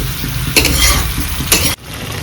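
Chunks of pumpkin frying in oil in a pan, with a steady close sizzle and two louder bursts of stirring before the noise cuts off abruptly near the end.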